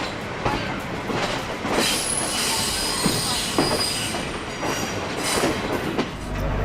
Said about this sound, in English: It's quite a slow train.